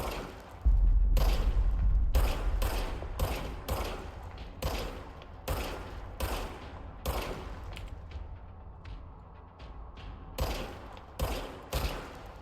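Service weapon firing in the video game Control, rapid bursts of loud gunshots repeating through the whole stretch, punchy and close with brief gaps between volleys.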